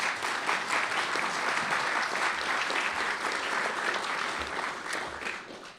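An audience at the National Press Club gives a round of applause, a dense, even wash of clapping that holds steady for several seconds and eases slightly toward the end.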